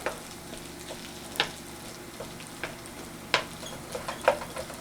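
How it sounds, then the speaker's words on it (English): Softening potatoes stirred in a pan with a wok scraper spatula over medium-high heat, a low sizzle broken by several sharp scrapes and clacks at irregular intervals, close and without talk. "So I'm going to go ahead and give this a little stir."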